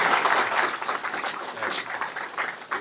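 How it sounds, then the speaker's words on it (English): An audience at a clean energy panel event claps to welcome the speakers, a dense, fairly faint patter of applause that fades slightly toward the end. "So I'd like you to welcome them with a round of applause"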